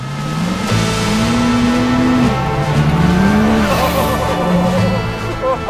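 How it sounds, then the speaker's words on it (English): A truck driving hard around a race track, its engine note rising and falling through gear changes with tire squeal and skidding, loud and close throughout. "I'm driving a truck on a track"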